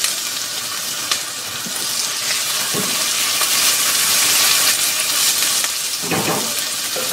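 Thai chicken stir fry with basil, mint and Thai chilies sizzling over high heat, a loud, steady, close hiss of frying that carries on unbroken with no voices.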